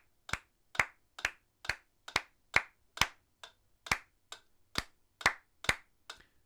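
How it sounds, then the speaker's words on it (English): One person claps sharply and close along with a metronome, a steady run of about fourteen crisp claps with a brief gap partway through, in a quiet room. "I'm going to start clapping with it."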